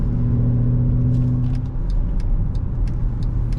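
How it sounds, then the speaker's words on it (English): A 2008 Mercedes-Benz ML63 AMG V8 heard from inside the cabin while coasting off throttle, a steady low rumble with road hum and faint ticking, no speech. "It's dead quiet in the cabin, other than the slight V8 rumble off throttle."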